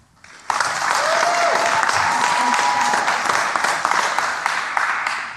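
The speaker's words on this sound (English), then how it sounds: "You may applaud after each of the candidates is introduced" Debate audience bursting into applause for a Republican U.S. Senate candidate's introduction, starting abruptly and holding loud and dense, with a faint voice briefly audible beneath the clapping.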